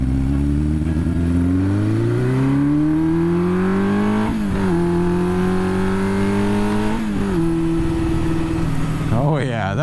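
A Yamaha XJ550 four-cylinder scrambler motorcycle accelerates hard in first gear, its engine note climbing loud and close through several rising pulls with brief dips between them. Wind noise runs throughout and a voice can be heard speaking.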